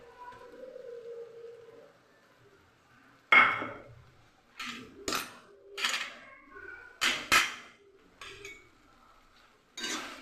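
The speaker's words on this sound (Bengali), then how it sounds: "দিয়ে এটা আমি একসাথে পুরো মিশিয়ে দেবো" Ground chana dal paste with ginger and green chilli mixed in a bowl, heard as a few separate scraping, clattering strokes of a spoon against the bowl after a quiet start, moderately loud and close with no talking.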